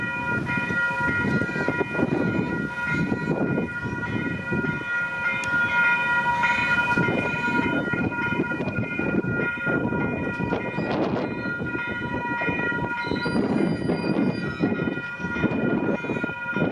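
Railway level crossing on Pine Road at Fairfield, Sydney, with steady alarm bells ringing as a Waratah train approaches, its rumble swelling and passing close alongside the continuous warning tones.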